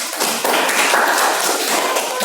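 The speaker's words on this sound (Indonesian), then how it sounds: "Kasih tepuk tangan dulu untuk kelompok 3" A classroom of children applauding a group, dense rapid clapping from many hands filling the room, steady and fairly loud from start to finish.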